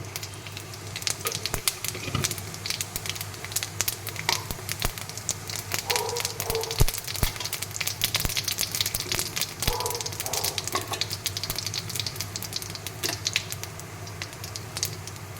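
Whole cumin seeds, cardamom, cloves and cinnamon sizzling in hot oil, a constant close crackle with rapid sharp pops and spitting bursts scattered throughout, fairly loud and steady.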